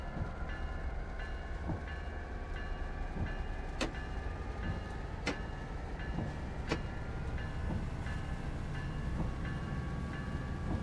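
An F40 locomotive hauls a train toward Gilroy in Train Sim World 3, with a steady engine rumble and rolling rail noise, occasional sharp clicks and faint whining tones, continuous and without speech.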